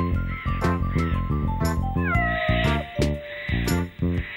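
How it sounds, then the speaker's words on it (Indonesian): A cat meows loudly and close several times in a row, each call rising and falling with a slightly strained, wailing tone, alone without talk. "Nah sekarang kucingmu di mana? Cepat ambil kucing itu."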